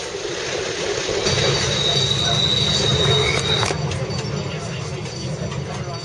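Passenger train on the roughly 25-hour rail journey between Cape Town and Port Elizabeth, heard as a steady, loud rumble of rolling wagons with faint wheel squeal, continuous throughout.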